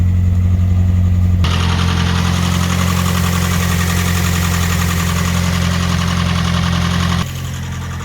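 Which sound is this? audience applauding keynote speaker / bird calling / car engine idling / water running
car engine idling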